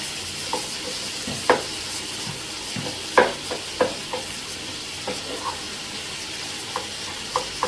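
Prawn masala with tomato being stirred in a frying pan: steady sizzling hiss broken by irregular scraping knocks of the spoon against the pan, close and moderately loud, with no voices.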